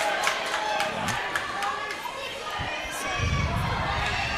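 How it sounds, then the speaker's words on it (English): Crowd noise in a high school gym during a varsity wrestling match, a continuous murmur of spectators with scattered shouts and a swell of cheering toward the end, heard from within the stands. "You heard the crowd."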